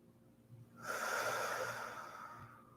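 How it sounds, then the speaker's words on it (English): A deep breath is drawn in and released during kundalini yoga, a close, airy rush that swells after a quiet start and then slowly eases off. "Breathing into your belly."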